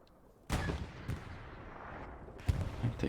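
Gunfire in an esports shooter match, a few sharp, booming shots with a heavy echoing tail, one near 0.5 s, one around 1.1 s and another near 2.5 s, moderately loud with no voices.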